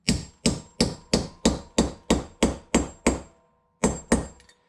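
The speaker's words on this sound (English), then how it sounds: "all we're going to do is one slight hit" Sharp metallic taps of a small hammer seating an engine valve in a cylinder head repeat in a quick, even rhythm, about ten strikes, then a brief pause before two more close taps.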